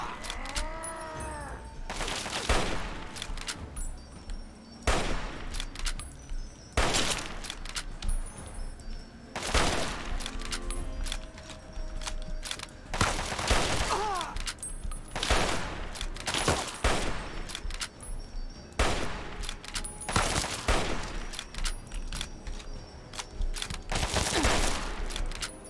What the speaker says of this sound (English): Chinese assault rifle